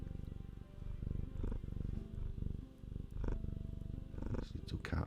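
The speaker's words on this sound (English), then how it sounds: "Got this little cat." A small cat purrs close to the microphone in a garden, a steady rumbling rhythm running throughout the clip.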